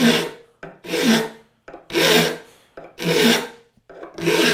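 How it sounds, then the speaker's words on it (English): A file rasping across the teeth of a resaw hand saw blade, loud close strokes in a steady rhythm, four long pushes each followed by a short lighter pass, with silent gaps between. "I'm just coming back and touching up the teeth"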